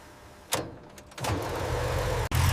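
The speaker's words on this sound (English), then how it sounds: "The starter motor spins, engine coughs once, then struggles to awaken." A car engine under restoration cranks with a short burst, pauses, then catches and runs at a steady rumble, briefly cutting out before resuming.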